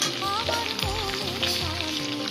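Moringa drumsticks hit a hot kadai of oil with whole-spice tempering for a Bengali mustard curry, giving a steady close sizzle and frying hiss throughout, with a faint clatter of stirring.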